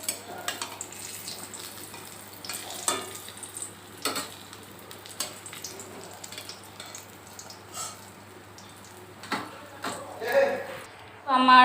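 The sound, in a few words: stuffed ash gourd fritters frying in oil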